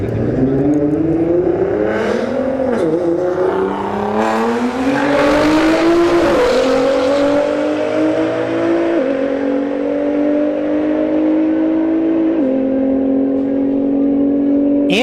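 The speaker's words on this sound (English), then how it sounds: "Nissan GTR versus Andrew with the Tesla Plaid channel" A Nissan GTR and a Tesla Model S Plaid launch in a drag race, loud engine revving climbing through gears with a brief tire squeal, then fading as the cars pull away.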